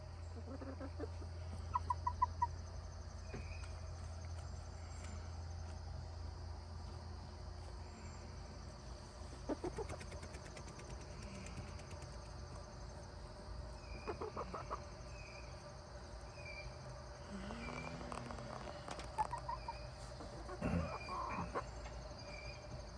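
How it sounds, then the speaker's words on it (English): Chickens clucking softly in intermittent short bursts at a moderate distance over a quiet background, with faint insect-like hum. "you still have such a pretty cluck"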